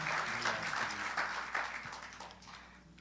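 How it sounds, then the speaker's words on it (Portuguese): A crowd claps steadily in a dense wash of applause that gradually fades. "Você pode dar uma salva de palmas para Deus"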